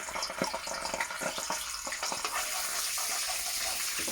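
Garlic and ginger paste sizzles and spits in a hot pan for a pheasant curry, a steady bright crackle with sharp pops throughout, close and fairly loud with no talking.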